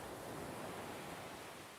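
Ocean waves make a faint, steady hiss of distant surf, an even wash of water with no voices over it.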